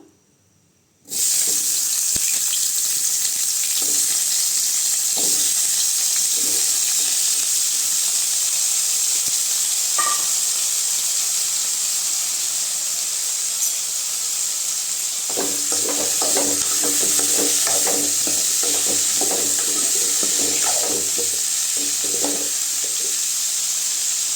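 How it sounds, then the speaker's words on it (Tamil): Chillies sautéing in hot oil in a pan for a bitter gourd kuzhambu, giving a steady loud sizzle and hiss from start to finish, with occasional stirring scrapes in the latter half. "எண்ணெய் ஊற்றிக்கலாம் மிளகாய் அது கூட சேர்த்துக்கலாங்க சேர்த்து நல்லா வதக்கி விட்டுக்கலாம்"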